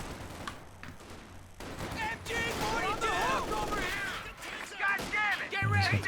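Rifles and a machine gun fire in a Company of Heroes 2 championship match, with rattling bursts and scattered shots running under an excited caster's steady commentary, mid-distance and partly masked by the voice.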